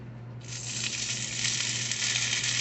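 Steak searing in a hot pan gives a steady, close sizzle that starts suddenly and then hisses continuously with a faint low hum underneath.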